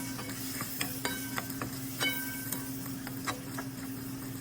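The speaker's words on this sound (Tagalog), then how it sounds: "Habang ginigisa natin yung pork, lalagyan din natin siya ng paminta." Pork and carrots sautéing in a pan, a steady close sizzle under repeated light clicks and scrapes of a utensil stirring at an uneven pace.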